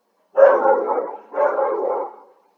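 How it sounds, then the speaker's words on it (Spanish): Pet dog barking indoors during a math lesson: two drawn-out, close, loud barks or yowls, each about a second long with a short gap between, and nothing else around them. "y disculpa a mi perro"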